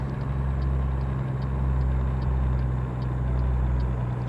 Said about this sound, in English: Going up these hills, you can already hear the truck